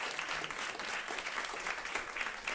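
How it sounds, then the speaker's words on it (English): A crowd applauds steadily at a food and sustainability event: dense, even clapping with no pauses, fairly quiet and distant. "Give her another round of applause"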